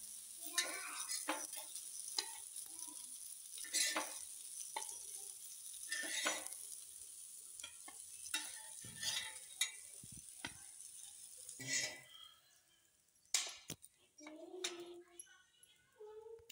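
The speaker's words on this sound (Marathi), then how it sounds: "हे बघा आता आपले मासे चांगले फ्राय झालेत" Fish fries in a pan in a Konkan-style kitchen: a quiet sizzle broken by repeated scraping and clinking of a spatula or utensils against the pan. Irregular knocks stand out, with a few louder clatters near the end.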